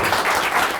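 A live show audience in Kenya claps, a short dense burst of applause filling the moment, loud and close, with no voices over it.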